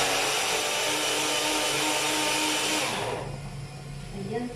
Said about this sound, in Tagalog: I-blender po natin siya.